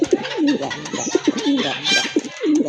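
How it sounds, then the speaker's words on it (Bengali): A male pigeon of a deep red fancy breed coos repeatedly and loudly nearby, a series of rolling throaty calls with short gaps between them. "নর কিন্তু প্রচুর ডাকে"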